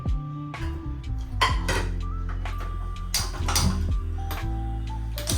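Crushed garlic and other ingredients are stirred in a bowl, with loud irregular clinks and taps of a utensil against the bowl, close and alone, with no talking.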